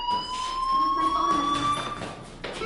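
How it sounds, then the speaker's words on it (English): A fire alarm rings continuously with steady electronic tones, a constant wailing ring filling the space with no talking over it. "Hey, do you hear that fire alarm?"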